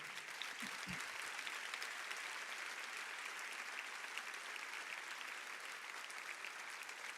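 A church congregation applauds steadily, a dense even wash of clapping from a large crowd that carries on unbroken for several seconds, with no speech over it.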